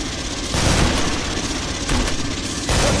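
Machine gun fire in the Killing Floor video game comes as dense, loud bursts of rapid shots and booms, pausing briefly before resuming, with the fire rising and falling in waves.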